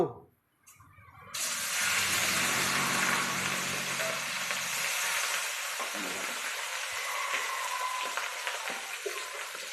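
Food frying in hot oil, dropped in by hand, gives a loud, continuous sizzle that surges after a quiet start and holds steady, with faint voices in the background.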